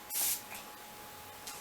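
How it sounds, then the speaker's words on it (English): A quick burst of Stay All Night Micro Fine Setting Mist from a makeup setting spray bottle gives one short, close airy hiss, with a fainter second puff near the end. "The Stay All Night Micro Fine Setting Mist."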